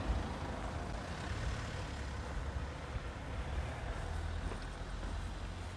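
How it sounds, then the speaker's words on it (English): A large taxi rolls past outdoors with a steady, loud engine rumble and road noise that holds throughout, the low drone constant without clear approach or fade. "The first time I see a car walking around, a car driving around, and it's this shit. It's a big taxi."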